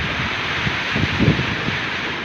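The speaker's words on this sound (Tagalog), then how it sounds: "Sobrang lakas po talaga ng hangin." Strong typhoon wind from Typhoon Nika sweeps through Quirino, a loud, steady roar buffeting the microphone with occasional gusty surges and no voices.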